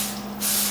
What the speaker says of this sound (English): greasing the pan here